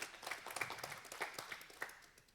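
A small audience applauds after a medical talk on robotic knee replacement surgery. The clapping is sparse and fairly quiet, with individual claps audible, and it thins out toward the end.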